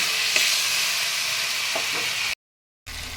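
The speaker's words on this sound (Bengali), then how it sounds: "মশলাটা আমি একটু ভালো করে কষিয়ে নেব" Spice paste with ginger, salt and a splash of water frying for malai paneer, giving a steady close sizzle with a few stirring scrapes, then a short silent break before the sizzle resumes.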